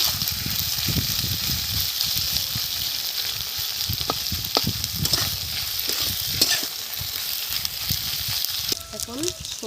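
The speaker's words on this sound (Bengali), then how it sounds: "দেখুন মাছগুলো এখন আমি একটু ভেজে নেব।" Soaked dried shutki fish fry in spiced oil in a pan, giving a loud crackling sizzle with stirring scrapes and bubbling, close up, with faint low voice-like murmurs beneath.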